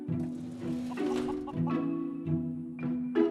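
Chickens cluck repeatedly in the Fallout 4 video game around a chicken race, a busy run of close, overlapping clucks and squawks with no talk.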